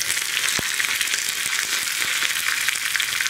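Curry leaves and dried red chillies crackle in hot oil with popped mustard seeds for a curry tempering, a steady, loud, close hiss with a few sharp pops and no voices.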